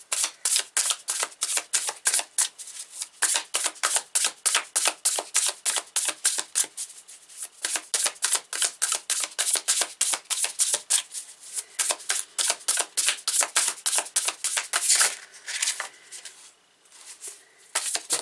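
Rapid, rhythmic riffling of shuffled tarot cards, crisp flicking bursts repeating over and over close to the microphone, no voices.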